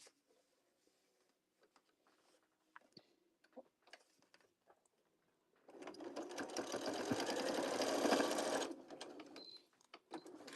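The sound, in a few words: sewing machine stitching a fabric strawberry pouch leaf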